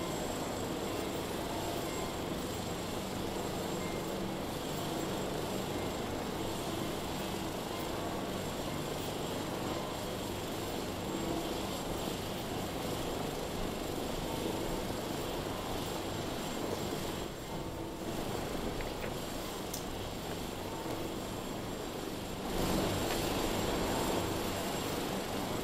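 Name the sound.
papal helicopter preparing to take off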